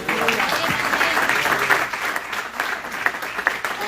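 A church congregation gives a loud, sustained round of applause, continuous and dense throughout, with faint voices mixed into the clapping.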